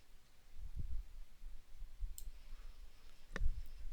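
Computer mouse clicks while editing in CapCut, a few isolated quiet clicks spread over several seconds against a low room hum, with one sharper click near the end.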